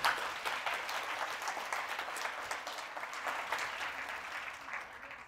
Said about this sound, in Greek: η αϊκίνητη Άντζελα Βογιατζή, για την οποία θα ήθελα ακόμα ένα χειροκρότημα.